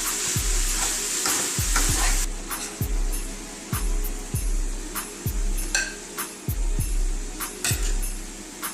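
Seasoned ground turkey being stirred into a sizzling cabbage medley in a hot pot, a steady frying hiss with a spoon scraping through it in regular strokes about every half second, close and clear with no talking.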